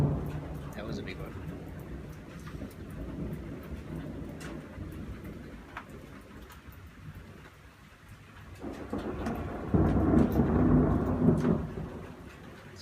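Late-night thunderstorm with sheet lightning and big bolts: low, rolling thunder rumbles build and fade over several seconds, then swell into a louder, closer roll, with rain patter in the background.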